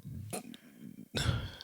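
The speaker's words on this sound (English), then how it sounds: "I did not mean to clear my throat in the mic." A throat clearing close to a microphone, a short rough burst that follows a quieter breathy rasp, with some speech around it.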